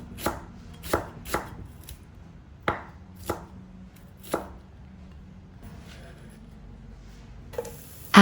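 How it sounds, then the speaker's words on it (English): A knife chops through a leek on a cutting board: a string of sharp, close knocks, several quickly at first and then more spaced out, with no voices. "Next, cut leek right in the middle"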